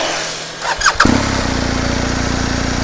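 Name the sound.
BMW R1250 GS boxer twin motorcycle engine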